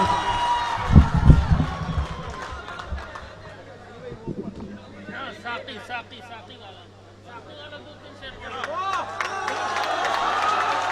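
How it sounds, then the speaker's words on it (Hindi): Audience at an Urdu mushaira, an all-India poetry gathering, bursting into applause and cheering early on, then a looser crowd murmur with scattered claps and voices under a steady hum. "जोरदार तालियों से"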